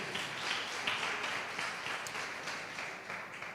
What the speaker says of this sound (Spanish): ¿Cuánto le da un aplauso fuerte al Rey de Reyes?